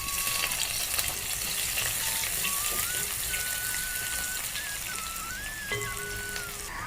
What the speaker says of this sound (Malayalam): അപ്പോൾ എണ്ണ ചൂടായിട്ട് നമുക്ക് കടുക് അങ്ങോട്ട് ഇട്ട് കൊടുക്കാം.